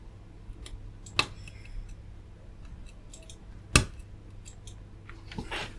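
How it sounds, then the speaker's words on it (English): A PCB copper track being cut on a burnt circuit board under repair: two sharp isolated snips or clicks, close and fairly quiet, over a low background hum with no talking. "I've actually managed to cut the track"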